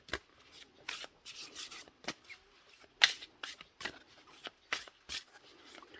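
A deck of oracle cards being shuffled close up gives brisk riffling and slapping bursts in an uneven rhythm, fairly quiet and with no voice over them.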